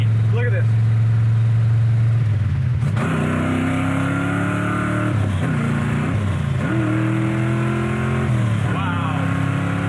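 A 1972 Chevy Nova's engine pulls hard while driving, revving up through several gear changes with a loud, continuous roar heard from inside the car, while people talk over it.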